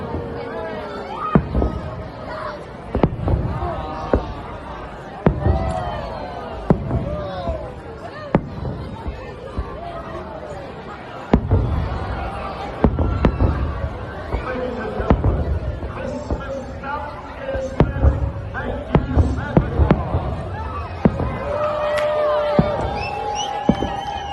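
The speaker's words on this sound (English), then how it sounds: "But here's how they do it in Colorado with a few fireworks." Fireworks at a Christmas celebration in Colorado: a string of sharp, scattered pops and bangs, some near and loud, over steady crowd chatter and voices.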